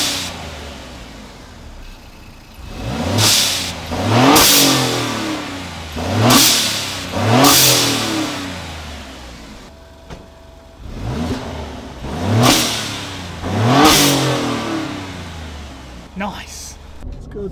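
An Alfa Romeo Giulia Quadrifoglio with a blow-off valve fitted revs repeatedly, each roughly one-second rise ending in a sharp hissing release; about seven loud pulls close by, with pauses between.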